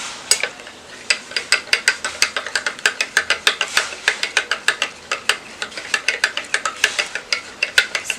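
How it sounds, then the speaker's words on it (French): A utensil rapidly scrapes and clicks against the sides of a bowl while a mixture is vigorously stirred, a brisk, irregular run of sharp ticks and scrapes, close and alone. "Là nous allons le mélanger. Ça doit être vraiment mélangé. Vraiment bien tourné."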